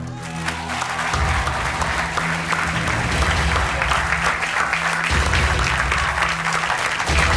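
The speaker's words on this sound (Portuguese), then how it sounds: "Um aplauso para o Pedro Gaspar" A TV game show studio audience breaks into applause for a contestant, loud sustained clapping that fills the room over a low rhythmic music bed.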